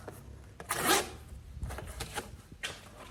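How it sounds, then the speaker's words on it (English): A WE Knives Nefaris blade ripping through cardboard in quick, rasping zipper-like strokes, one loud cut followed by several shorter ones, close up. "even as it's ripping through this stuff, it sounds like a zipper"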